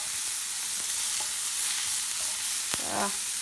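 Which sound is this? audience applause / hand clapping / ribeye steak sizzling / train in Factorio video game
ribeye steak sizzling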